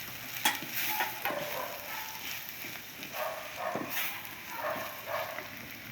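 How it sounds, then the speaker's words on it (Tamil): Turmeric and garam masala powders frying in oil for an Indian crab curry, a soft steady sizzle with light scraping stirs at intervals, fairly quiet and close with no talking. "இந்த பொடிகளை எல்லாம் எண்ணெயிலே நல்லா வதக்கிக்கலாம்."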